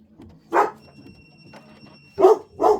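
Dogs bark indoors, with one short bark followed after a pause by two more quick, loud barks close by.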